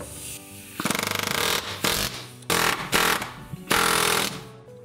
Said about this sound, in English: I basically started to just cut it off with my air chisel